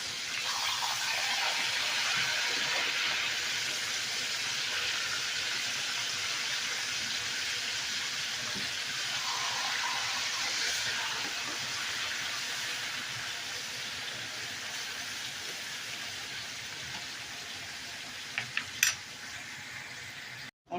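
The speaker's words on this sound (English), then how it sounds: "I'm just going to flip these steaks over and let them sear on the other side" New York strip steaks sear in a pan with a broad, steady sizzling hiss that continues throughout, close and fairly loud, with a few brief clinks near the end and no talking.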